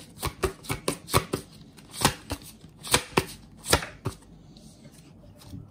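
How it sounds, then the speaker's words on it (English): A fairy tarot card deck is shuffled by hand, giving a run of crisp riffling snaps and taps in irregular bursts, close and clear with no talking. "So we're going to shuffle them."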